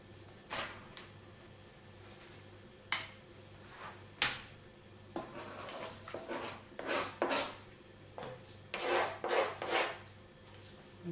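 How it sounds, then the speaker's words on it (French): Vanilla pod being scraped with a knife to remove the seeds while making floating islands dessert, heard as a series of short, soft rasping scrapes at irregular intervals, close and fairly quiet, with no talking. "Je vais gratter les graines."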